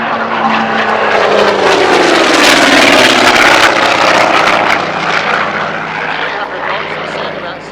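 A military aircraft makes a fast, low canopy-up pass at about 300 knots during an RAAF Museum flying display, a loud, close roar that swells as it goes past and then slowly fades.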